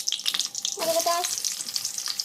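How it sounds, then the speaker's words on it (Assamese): Onion dropped into hot oil in a pan bursts into a loud, close sizzle that settles into steady crackling frying. "এই দিলোঁ পিঁয়াজ"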